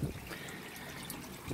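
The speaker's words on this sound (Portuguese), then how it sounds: "Uma fonte." Water running steadily from a small spring fountain at the Santuário de Santo Expedito shrine, a continuous close trickling splash with a faint voice murmur at both ends.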